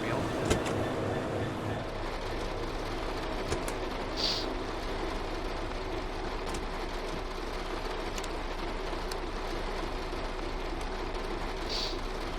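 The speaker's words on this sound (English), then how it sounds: "That rain's awfully loud." Steady rain hisses and patters in the Train Sim World 3 video game on a wet day in Kent, a continuous wash of noise with a few faint chirps and clicks layered over it.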